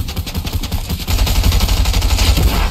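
Rapid automatic gunfire from a Batman vs. Superman video game, loud dense bursts of shots rattling continuously, close and dominant with no speech over them.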